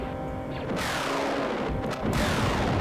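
A thermal detonator goes off in the Super Star Wars video game, with booming retro explosion blasts, one after another with crackling falling sweeps, loud and without voices.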